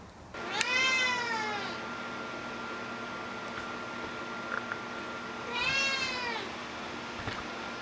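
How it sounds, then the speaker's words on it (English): A cat outdoors meows twice, a long drawn-out call near the start and a second one a few seconds later, over a steady mechanical hum. "Kitty's out here keeping an eye on me"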